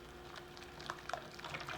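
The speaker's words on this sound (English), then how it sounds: "And then I will just take my whisk and just whisk that all together." Melted butter and yeast mixture for hamburger buns is whisked in a bowl, giving a faint, brief wet swishing with a few light liquid clicks and splashes, heard alone and quietly.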